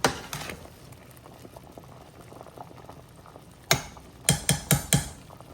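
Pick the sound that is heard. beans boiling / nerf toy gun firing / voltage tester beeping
beans boiling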